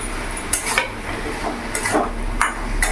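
Hilsa fish heads and cumin paste are stirred in a pan, with a metal spoon scraping and clinking against the pan in irregular strokes over a low, continuous sizzle.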